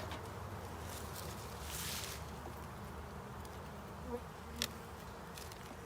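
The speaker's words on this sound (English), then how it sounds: "we're packed with bees, friends" Honeybees hum around an opened hive during the first spring inspection, a constant close drone with occasional louder passes and a couple of soft handling knocks.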